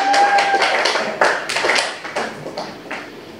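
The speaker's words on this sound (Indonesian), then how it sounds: "tepuk tangannya dong Bapak Ibu guru semuanya" Teachers clap for a few seconds after a presentation at a teacher training session, scattered claps at close range that gradually thin out and fade.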